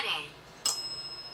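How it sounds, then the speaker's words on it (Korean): A single bright bell chime strikes partway through and rings on as a clear, sustained tone over quiet background hiss inside a haunted-house horror game. "종소리."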